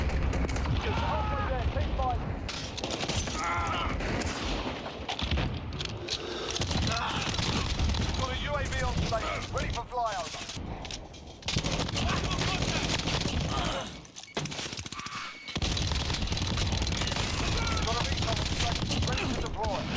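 Chaotic Call of Duty MW2 multiplayer gunfire, bursts of shots and mechanical clatter in a busy match, with a player talking loudly over much of it and a couple of brief lulls.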